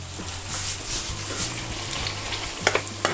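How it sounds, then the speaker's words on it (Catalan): Julienned onion frying in oil in a pan, with a steady crackling sizzle throughout, some soft stirring movement and a few sharper pops near the end. "en el mateix oli on hem fregit les sardines hi posarem a fregir la ceba que hem tallat de juliana"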